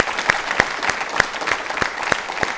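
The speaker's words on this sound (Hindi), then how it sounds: "एक बार तालियां सभी के लिए जोरदार हो जाए।" An audience claps at a live televised talk event, with steady, fairly close applause carrying throughout.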